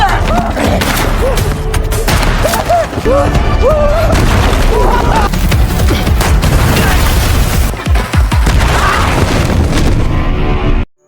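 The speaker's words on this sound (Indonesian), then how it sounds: "baku tembak antara anggota divisi ke-7 melawan pasukan Ushiama pun terjadi" Dense gunfire exchange between troops in a Golden Kamuy film, loud and continuous, with booming shots, splintering impacts and shouting voices mixed in before it cuts off abruptly.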